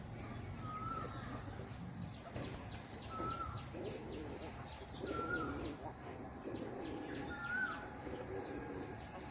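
Pigeons coo softly at a distance in repeated short calls, several times over a low background hum.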